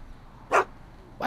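A dog in the Back to the Future adventure game gives two short, sharp barks, the second a moment after the first, clear over a quiet background.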